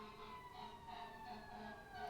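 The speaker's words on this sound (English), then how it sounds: "obviously there's the sirens behind me in this soundproof studio of mine" Emergency vehicle sirens wailing outside, heard faintly through studio walls as a steady, distant oscillating tone with no talk over it.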